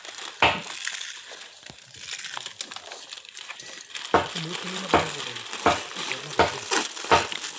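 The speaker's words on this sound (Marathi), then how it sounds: "फोडणी मारू." Spices such as garlic and cinnamon leaves being tempered in hot oil at an outdoor riverside cook-up, giving a crackling sizzle with sharp rhythmic scraping and stirring strokes, close and fairly loud, with no speech heard.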